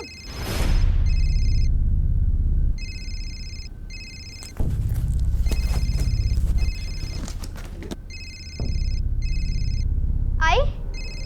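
A mobile phone ringtone plays in repeated bursts of electronic tones, loud and close, with people talking over and between the rings.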